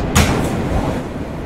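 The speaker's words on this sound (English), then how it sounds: "This is a Catlin-bound B train" A New York City subway B train bound for Brighton Beach stands at a platform: a short clunk near the start, then a steady low rumble and hiss of the car through the rest.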